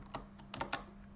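Typing on a computer keyboard at a command prompt: four or five quick, close key taps in an irregular rhythm over a faint steady hum.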